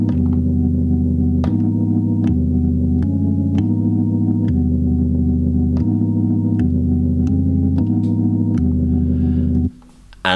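Low, droning organ-like chords shift in a steady repeating pattern, punctuated by ticking beat hits, with a slightly wobbly, gritty tone before cutting off.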